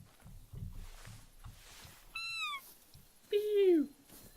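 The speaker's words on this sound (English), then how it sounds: "This is how my cat sounds." A house cat gives two clear meows, the second longer and louder, following soft shuffling footstep-like sounds, with no talking over it.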